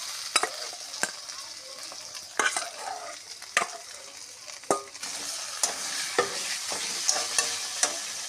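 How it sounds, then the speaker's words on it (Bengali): Mashed potato and pumpkin for cutlets fry in oil with a close, crackling sizzle, punctuated by regular sharp taps and scrapes of a stirring utensil. "এবার আলু কুমড়ো ফেসে রেখেছিলাম দিয়ে দেবো তেলে"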